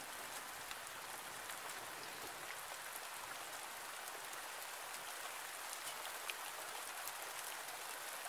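Steady rain falls continuously, a dense even patter on surfaces with no voices or other sounds breaking through.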